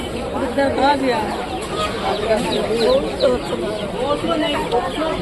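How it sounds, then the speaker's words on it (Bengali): Chickens cluck and call among the cages at a busy animal and bird market, steady and fairly close, under someone talking and a background hubbub of crowd chatter. "দেখুন এখানে বন্ধুরা কত সুন্দর সুন্দর মরগ বিক্রি হচ্ছে"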